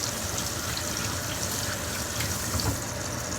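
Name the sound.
water running from a tap to rinse food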